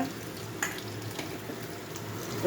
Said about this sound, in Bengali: আলু পেঁপে ভাজছি